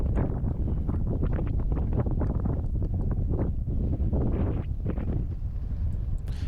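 Steady wind blowing across the Sahara desert dunes near Merzouga, Morocco, roaring and buffeting the microphone in a continuous, loud, gusty rush with no other sounds.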